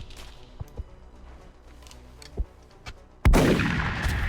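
A single loud gunshot in the XCOM Long War video game, a sharp blast followed by a sustained rumbling tail, preceded by quieter clicks and faint game sounds.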